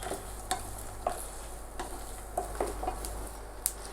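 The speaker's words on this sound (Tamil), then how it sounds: "ஸ்டவ் கம்மி பண்ணி நிதானமாக வறுத்து எடுத்துக்கலாம்" Grated coconut roasts in a pan over a low flame, a quiet dry sizzle broken by sparse, sharp spoon clicks and scrapes against the pan.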